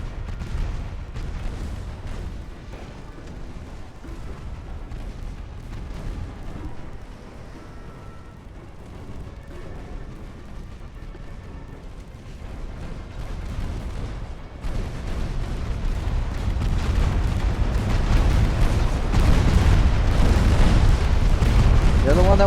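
Heavy naval gunfire from warship guns in the Ultimate Admiral: Dreadnoughts video game, a dense run of booming blasts that grows louder and more continuous in the second half.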